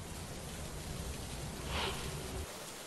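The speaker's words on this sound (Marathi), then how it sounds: "पुणे शहराला पावसाचा तडाखा बसला असून अनेक भागांमध्ये पाणी साचले" Heavy monsoon rain falls over Pune's waterlogged Deccan area as a steady, dense broadband hiss that swells briefly near the middle, then eases slightly toward the end.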